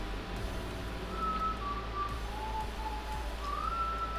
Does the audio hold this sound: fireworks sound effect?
no